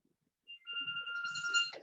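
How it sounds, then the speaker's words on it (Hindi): A mobile phone rings in a hospital setting, its electronic ringtone sounding bright, melodic tones that start after a brief pause and continue steadily, with some low rumbling underneath. "मेरा फोन बज रहा है"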